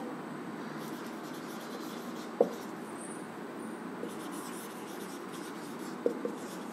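Marker or chalk scratching steadily on a board during a trigonometry lesson on angles, a continuous soft scraping texture with a couple of small taps, no talking.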